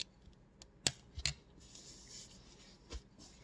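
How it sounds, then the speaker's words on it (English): Scissors snipping the yarn end of a crocheted dish scrubby, two crisp close cuts in quick succession followed by a softer snip, with light handling rustle between. "Now we'll cut this end."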